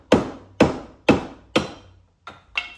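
Sharp metallic-wooden strikes of a hammer pounding out an axe head, four evenly spaced heavy blows followed by two lighter taps, each ringing briefly, close and loud.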